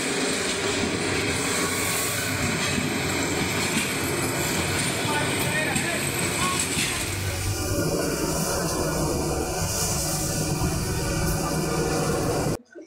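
At Srimangal railway station, a train departing behind the platform gives off a continuous broad rumble and hiss with engine drone. The noise stays steady and fairly loud throughout, then cuts off abruptly.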